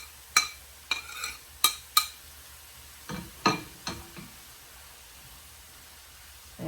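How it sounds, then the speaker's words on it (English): Ground turkey meat and vegetables stirred in a pan, giving a series of short scraping, clattering strokes in two bursts with quiet gaps between them, close and fairly soft. "And stir that around."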